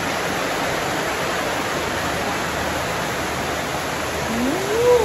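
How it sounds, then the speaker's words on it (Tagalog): Heavy rain pours down steadily in a broad, constant hiss close by, with a brief voice rising faintly near the end. "Ang lakas ng ulan ngayon guys."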